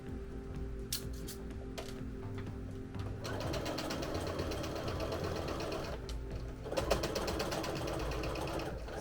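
A sewing machine stitches the first leg seam of an Appa plush, its fast steady needle chatter running continuously up close, with brief pauses and restarts as the fabric is guided along the seam.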